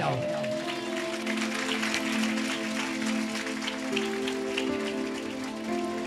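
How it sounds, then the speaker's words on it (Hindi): A congregation claps at a Sunday church meeting, steady dense clapping under sustained music tones, with a voice faintly present. "यीशु मसीह के नाम में ताली बजाओ।"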